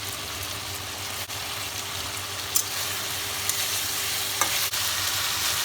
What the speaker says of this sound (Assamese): মই ইমান দেৰি মিডিয়াম ফ্লেমত ৰান্ধি আছিলোঁ মাংসখিনি